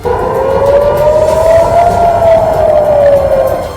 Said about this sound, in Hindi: वहां हमलों की चेतावनी के सायरन बजने लगे